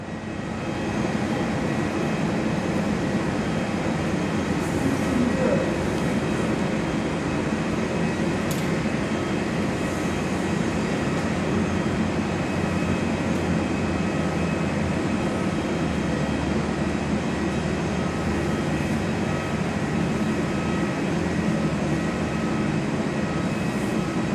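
An Airbus A350 airliner of Qatar Airways, arriving from Doha, passes as a steady, loud broadband roar that holds throughout, heard from an indoor viewing platform at Perth airport.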